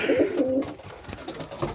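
A racing pigeon coos close by in its loft, a couple of low throaty calls at the start, followed by quieter rustling.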